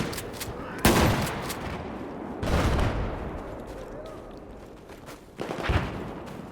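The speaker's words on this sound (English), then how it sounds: "As you see, I'm using shotguns now." Shotgun blasts in Battlefield 4 multiplayer, three heavy booming shots spaced a couple of seconds apart, each followed by a decaying rumble over steady background game noise.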